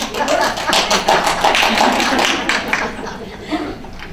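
A lecture audience claps together in a dense, steady burst that holds loud for a few seconds and then thins toward the end.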